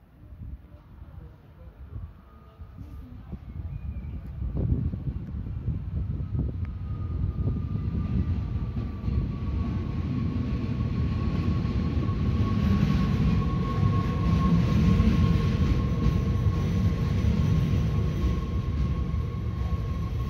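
Train arriving at Geldermalsen station, a broad low rumble growing louder as it pulls in, with a long sustained brake squeal or tone on top, heard near and without speech.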